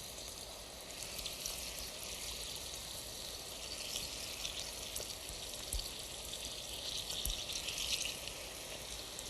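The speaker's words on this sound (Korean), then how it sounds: "이 뿌리 부분에 이런 줄기 같은 것도 그냥 튀겨주세요" Ginseng roots and their thin stems deep-frying in hot oil, a steady close bubbling crackle and hiss that runs without a break, with a few sharper pops.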